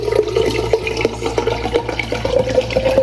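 Water from a plastic bottle pours into a Stanley tumbler in a home at night, a close, steady gurgling pour with small bubbling bursts throughout.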